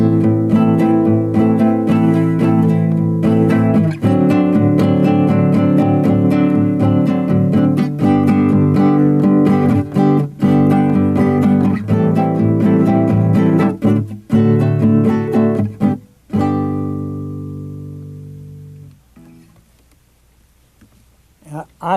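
Acoustic guitar strummed steadily in a syncopated two-bar pattern of 3-3-2 then 2-3-3 accents, sounding full and close, before the playing stops and the last chord rings out.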